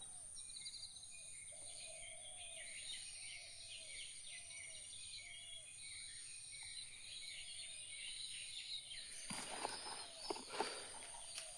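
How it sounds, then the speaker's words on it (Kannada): Several small birds in a tree give faint, repeated chirps and trills over a steady insect buzz, with a brief burst of rustling near the end. "ಎಷ್ಟು ವೆರೈಟೀಸ್ ಪಕ್ಷಿಗಳು ಸೌಂಡ್ ಮಾಡ್ತಿದ್ದಾವಲ್ಲಿ ನೋಡಿ"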